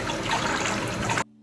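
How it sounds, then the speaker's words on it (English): Running and splashing water while face wash is rinsed off, a close, steady trickle lasting about a second before it cuts off abruptly. "Then I tried to wash off my face wash by splashing water on my face"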